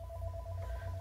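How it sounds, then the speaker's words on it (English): A phone rings briefly: a steady electronic tone, faint and close, over a low background hum. "I hear a phone call now."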